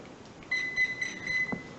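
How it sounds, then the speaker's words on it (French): A thin, high electronic beep repeats in short pulses from a Hobbywing Xerun XR8+ electronic speed controller over a faint hum, with a brief soft thump near the end. "Donc tu as bien eu le bip du machin"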